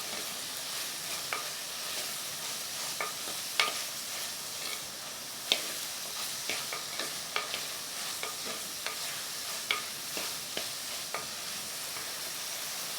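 Brinjal sizzles steadily in a clay pot while a utensil scrapes and taps through it in irregular strokes, close and clear with no talk.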